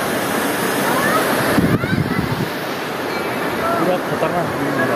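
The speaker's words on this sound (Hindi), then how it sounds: "यहाँ पे देखिए झरना जो है" Waterfall near a bridge at the Chamunda Devi temple in Himachal Pradesh, with low water flow, giving a steady broadband rush of falling water and wind noise throughout, fairly loud and continuous.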